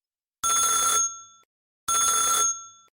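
A telephone bell rings twice in a quiet trailer home, each bright electronic burst lasting about half a second and then fading, with a short silent gap between rings.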